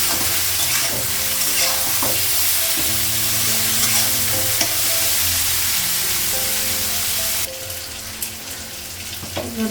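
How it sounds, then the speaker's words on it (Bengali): Eggplant, potato and onion frying in a pan, a steady loud sizzle with stirring and scraping throughout, no talk, the texture shifting brighter near the end. "বেগুন আলু পেঁয়াজটা একটু ভেজে নেবো"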